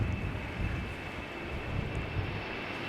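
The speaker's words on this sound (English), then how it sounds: "This is KLM flight 1551 going to Ibiza and Embraer 190." A KLM Embraer 190 jet bound for Ibiza roars steadily at a busy airport runway, a continuous broad engine rumble with a high whine holding throughout, fairly close and loud.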